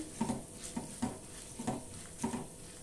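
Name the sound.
chillies and urad dal roasting in a pan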